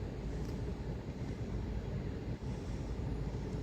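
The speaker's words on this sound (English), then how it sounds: "There's another train coming in." Low, steady rumble of a Greater Anglia train rolling in at platform 6 of a station, broadband noise with faint wind buffeting, no voices.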